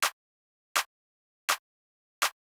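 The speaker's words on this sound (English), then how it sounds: "And the second clap sounds like this." A second hip-hop beat clap sample, tight and very short, repeats four times at a steady pace with silence between hits and no voices.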